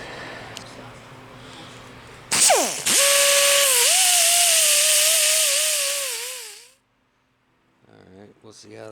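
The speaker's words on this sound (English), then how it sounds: "I start by grinding the aluminum clean." A grinder spins up and bites into aluminum VW trim, a loud sustained whine with a wavering pitch that runs for several seconds and then winds down, followed by a brief voice.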